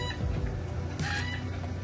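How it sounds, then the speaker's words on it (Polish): A rooster crows amid a group of free-roaming chickens at a scenic viewpoint in Thailand, a rising call around mid-clip over steady outdoor background noise. "tam kogut pieje"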